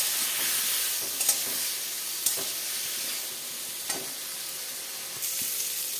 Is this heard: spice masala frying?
yes